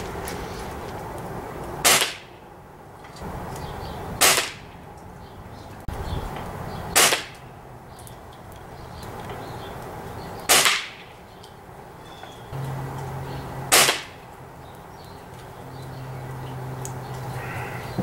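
Five sharp air-rifle shots from a Benjamin Trail NP .22 firing Beeman Cro-Magnum 18.21-grain pellets at a 20-meter target, spaced a few seconds apart, each a crisp crack over a steady low background hum.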